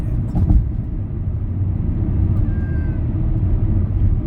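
A cat meows faintly inside a car driving through downtown Chicago at night, the brief cry nearly buried under the steady, loud rumble of the moving vehicle.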